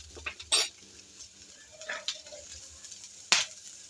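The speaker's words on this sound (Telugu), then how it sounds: "కొద్దిగా నూనె వేసుకొని ఇలా లైట్గా నూనెలో వేయించుకొని" Sweet corn and carrot frying lightly in a little oil, with a spatula or spoon scraping and knocking against the pan in a few sharp, sparse clinks over a soft, steady sizzle.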